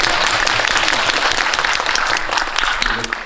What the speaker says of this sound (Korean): 질문하신 송포현님에게 한번 박수 보내드릴게요